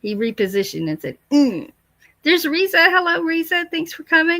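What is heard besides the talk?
No distinct noise like a dog, phone or traffic.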